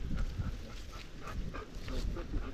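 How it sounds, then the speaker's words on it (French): A dog chases a cross-country mountain bike on a trail, giving faint yelps and whimpers beneath constant wind and rolling tyre noise. "Hey, je suis poursuivi par un chien."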